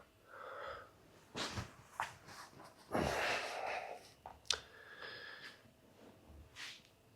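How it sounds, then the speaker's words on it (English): A person doing a breathwork demonstration takes several forceful, audible breaths, sharp nasal inhales and exhales in an uneven rhythm, close and fairly quiet, with no talking. "I'm going to demonstrate this breath work"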